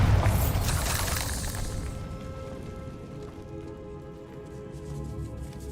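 In Hogwarts Legacy, a Bombarda blasting spell detonates in a decaying catacomb, a loud, crumbling burst at the start that fades into a soft, scattered patter of debris.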